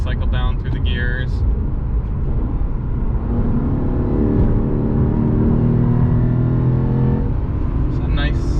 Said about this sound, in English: This is a beautiful sounding car too. It does have a nice sound to it.